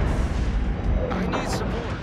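Naval artillery fire from warship guns in World of Warships: Legends, heard as dense, continuous rumbling booms that fill the whole short stretch, with game chatter mixed underneath.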